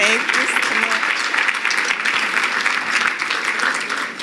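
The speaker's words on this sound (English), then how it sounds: "So let's give it a round of applause to our Bridge Builder Award." Enthusiastic audience applause at a civic awards gala honoring a Bridge Builder Award, a dense, steady wash of clapping from a large crowd, loud and continuous throughout.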